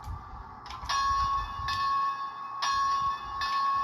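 An HO scale model locomotive's bell sound rings repeatedly in a steady clanging rhythm, clear and moderately loud over a faint low background hum.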